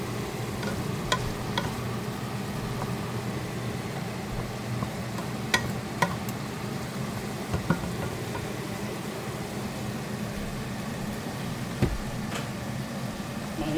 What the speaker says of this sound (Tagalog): So, ayan na. Hinahalo-halo.